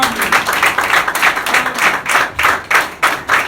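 A church congregation applauds, with steady rhythmic clapping from many hands that fills the room close and loud with no voices over it.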